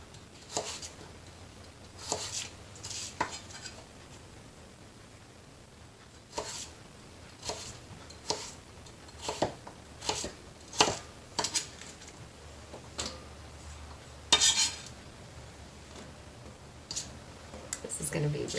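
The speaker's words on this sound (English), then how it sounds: "I'm going to finish cutting up the rest of these" A knife chops vegetables for roasting on a board: irregular crisp knocks, sometimes single and sometimes in quick pairs, close by, with quiet pauses between them and no voice over them.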